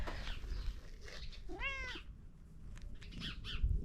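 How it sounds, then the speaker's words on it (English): A cat gives one clear meow partway through, a rising then falling cry near the microphone, over outdoor background noise with faint bird chirps. "Look, there's the cat that we saw earlier."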